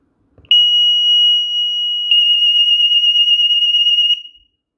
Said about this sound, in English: it'll beep to let you know when it is done sending that test signal